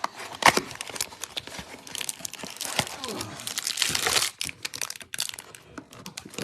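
Trading card pack wrappers being ripped open during a card break, with close crinkling and tearing foil alongside card handling clicks and rustles.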